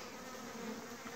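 A captured swarm of honey bees buzzing as a dense, steady drone, fairly faint and continuous with no voices.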